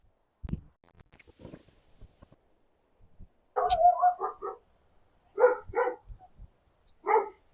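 A dog barks in a quiet outdoor spot near a house, a short burst of three or four barks mid-way followed by two more separate barks, fairly close, with faint scattered knocks between.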